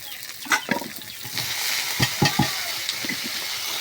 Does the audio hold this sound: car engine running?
no